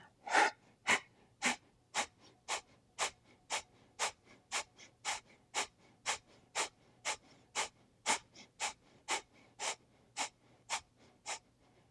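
Rhythmic, forceful breathing during a yoga breathing exercise, about twenty sharp, evenly spaced breaths in steady succession, close and clear against a quiet background.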